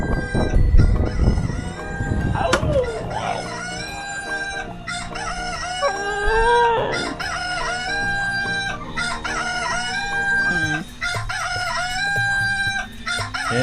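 A rooster crows loudly several times in a row, each crow a long rising and falling call. Clucking and other fowl noises fill the gaps, and there is no speech.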